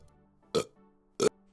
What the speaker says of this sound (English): Excuse me, that soda made me burp.